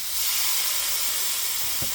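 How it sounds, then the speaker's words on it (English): Steady, close sizzling hiss from chicken tenders on a 500-degree grill, constant and fairly loud, with a brief low thump near the end and no talking. "I don't know if you can hear it sizzling."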